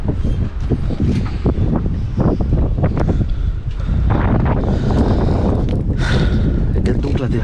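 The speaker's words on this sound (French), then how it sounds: "Il y a beaucoup de vent donc." Strong wind blows outdoors, a loud, steady buffeting roar across the microphone that never lets up, with faint voices underneath.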